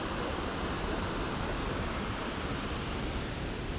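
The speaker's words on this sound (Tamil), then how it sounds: "இங்கே இருக்கு பாருங்க, ஒரு குட்டி ஃபால்ஸ்." Small waterfall stream at Snoqualmie Falls, Washington, a dense steady hiss and rush of falling water, constant and fairly loud with no voices.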